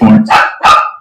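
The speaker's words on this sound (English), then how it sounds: "There's a dog outside." A dog outdoors gives three loud, close barks in quick succession, each short and sharp.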